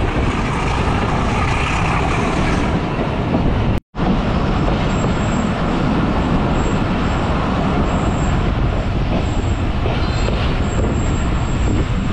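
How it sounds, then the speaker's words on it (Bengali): Modhumoti Express with an old vacuum-braked rake pulling out of Panchuria Junction, a steady loud rumble of wheels and carriages close by throughout, with a brief dropout partway and faint high squeals on top. "পাঁচুরিয়া জংশনে 2 মিনিটের মতো একটি ছোট্ট বিরতি দিয়ে ট্রেন ছেড়ে দিল।"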